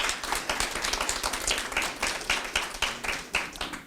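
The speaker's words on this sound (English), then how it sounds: "We applaud you" Audience applause at a food and fuel bank awards ceremony: dense, continuous clapping from a crowd, fairly close and steady throughout.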